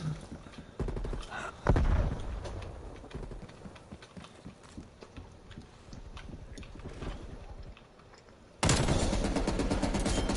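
Gunfire in a multiplayer shooter video game: sustained rapid bursts of automatic fire with a heavy blast early on, a long stretch of repeated shots, then a louder burst resuming at the end, close and dense.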